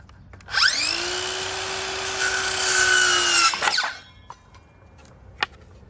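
A handheld circular skill saw whines up and rips through a wooden board for garden beds, a loud, sustained high-pitched cut lasting about three seconds before spinning down, followed by a few faint knocks of wood.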